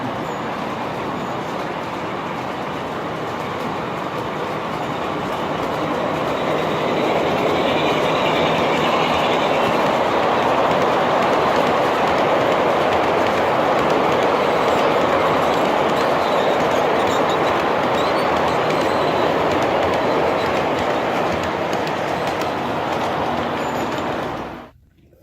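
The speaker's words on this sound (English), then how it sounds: "Just have to watch out for the trains." Model garden railway trains run along outdoor track at a fairground layout, a steady rolling rumble with faint clickety-clack that swells and holds loud for most of the stretch before cutting off abruptly at the end.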